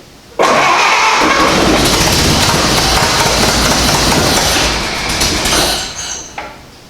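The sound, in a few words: 1929 Ford AA tow truck engine cranking and starting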